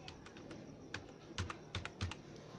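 Keys on a computer keyboard are tapped while a user ID is entered on a Rastriya Banijya Bank website login page, a quick series of close clicks with short pauses over a faint room hum, no voices.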